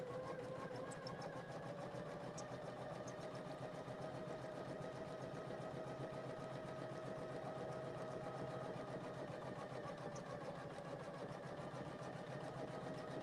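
A Poolin single-needle embroidery machine stitches at a steady, rapid pace, with a constant mechanical whir and a fine, even needle rhythm running unbroken and close by.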